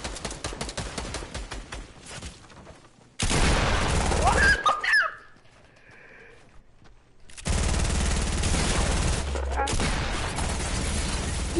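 Rapid gunfire in a PS4 shooter comes in dense loud bursts and volleys, stopping for a quieter stretch with a few faint clanks before the shooting resumes and runs on to the end.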